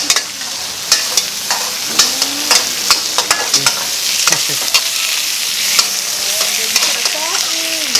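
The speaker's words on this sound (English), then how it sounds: "Up next is the main course, which is the stir-fried dishes." Food stir-fries in a wok at an outdoor cooking school in Chiang Mai, with a loud continuous sizzle and frequent sharp scrapes and taps of a spatula on the pan.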